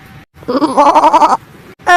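A billy goat gives one long, wavering, nasal bleat up close, rising in strength before cutting off, then a second bleat begins right at the end after a brief quiet gap.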